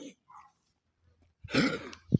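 A dog gives a rough, hacking cough after a quiet stretch, with a short throaty follow-up at the end.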